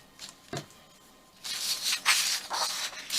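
A spray bottle mists freshly brewed coffee onto junk-journal paper for dyeing. A few soft handling taps come first, then a run of hissing spray bursts, close and moderately loud.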